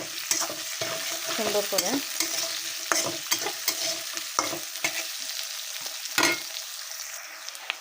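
Potatoes, onions and slit green chillies fry together in oil with a continuous sizzle, broken by repeated scraping and stirring strokes of a spatula; a voice briefly speaks early on.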